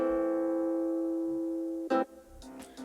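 A virtual guitar instrument plays a shortened, repeated chord: one sustained chord fades, then a few short, clipped strums follow in quick succession, clear and alone.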